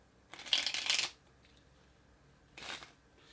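Two quick bursts of cards being shuffled, a longer riffle followed by a shorter one after a pause, close and fairly quiet.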